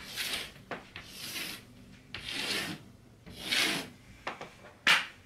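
A cloth wipes chalk off a surface coated with chalkboard paint after it has been sprayed, giving a series of soft, close rubbing strokes separated by brief pauses.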